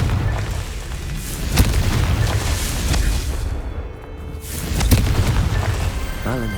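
Confringo blasting spell in the Hogwarts Legacy video game, heard as loud booming explosions over a dense, rumbling game soundscape, with one sharp blast early and another later.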